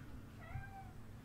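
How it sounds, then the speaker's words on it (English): A cat gives a single soft, drawn-out meow indoors. It is faint against a low background hum. "Forgive the kitty sounds, guys. My cats love attention."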